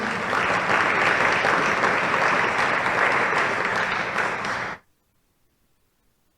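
Church congregation gives applause to the Lord, a loud, dense burst of crowd clapping that holds steady for nearly five seconds, then cuts off abruptly into silence.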